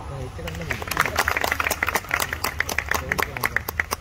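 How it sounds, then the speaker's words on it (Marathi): Applause at a Konkan creators' award ceremony as an honoree is named: many hands clapping in a quick patter, fairly close, mixed with a speaking voice and some crowd noise. "टाळ्या वाजवा."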